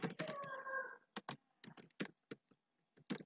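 Keys tapped on a computer keyboard while entering data into a spreadsheet, a quick burst of clicks followed by a few sparse, separate keystrokes, close and clear, with no voices.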